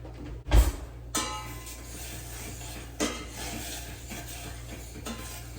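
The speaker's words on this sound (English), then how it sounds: "stirring my oatmeal." Oatmeal being stirred in a pot on the stove, a soft scraping and rubbing of a spoon with a couple of sharper knocks against the pot, steady and close, with no talking.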